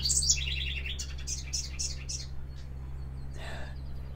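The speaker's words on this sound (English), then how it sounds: "Did you hear that bird back there?" An outdoor bird gives a series of quick, high chirps in the first couple of seconds, then falls quiet as a steady low hum and faint breathy sounds continue, with a soft whisper-like noise near the end.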